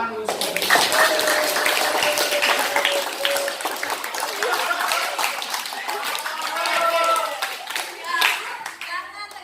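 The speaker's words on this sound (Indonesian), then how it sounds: "mari kita tepuk tangan dulu" Students clapping together during a school classroom debate session, a dense burst of hand claps with children's voices and chatter mixed in, sustained for several seconds before thinning out at the end.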